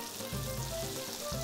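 Potato pieces fry in olive oil, a loud, dense, continuous sizzle with low bubbling pulses throughout.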